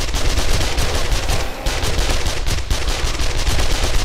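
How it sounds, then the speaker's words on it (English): Submachine-gun fire in the video game 7 Days to Die, a loud continuous automatic burst with rapid shots over a dense backdrop and only a brief break partway through. "I'll just get the SMG out a little bit more"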